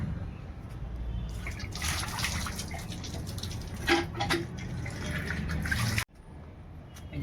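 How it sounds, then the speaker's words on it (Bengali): Running tap water splashing over hands during a wash in a home kitchen after cooking fish curry, a steady close trickle that brightens mid-wash and then stops abruptly near the end, with no talking. "হাতটা ধুয়ে নিলাম"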